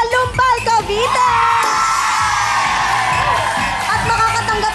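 A crowd from Lumbal, Cavite erupts in loud whoops, yells and cheers at a Filipino TV game show, a dense roar that holds for several seconds after a host's announcement.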